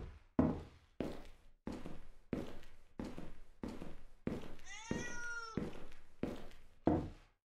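A cat meows inside the AKAI ONNA horror video game, a single drawn-out mewing cry set among a steady series of rhythmic knocking thuds, fairly close and moderately loud with no talk.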